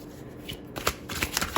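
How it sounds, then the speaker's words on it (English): A deck of tarot cards is shuffled by hand: a short, close burst of riffling flutter and soft slaps, alone with no talk. "we still give this another good shuffle before we get going here"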